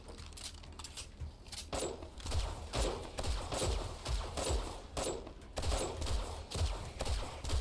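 Rapid, repeated hunting rifle shots fired at zombies in a video game, a steady crackling volley of loud reports spread across the whole stretch with little pause between them.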